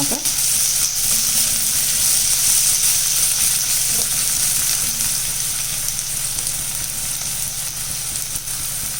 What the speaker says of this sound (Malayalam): സവാള നല്ലോണം ഇളക്കി കൊടുക്കാം. ഒന്ന് വാടി വരട്ടെ.